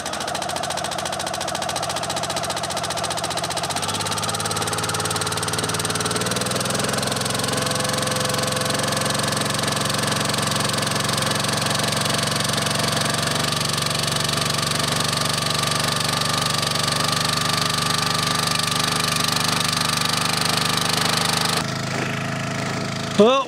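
A firewood log splitter's engine idles as it warms up, a steady close rumble with a slight shift in tone partway through and a sharp clatter at the very end.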